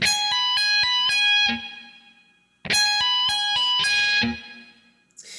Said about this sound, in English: And then we're going to hammer it on and off like this.